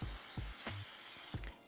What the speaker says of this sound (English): Although it's non-stick, I am still going to spray it.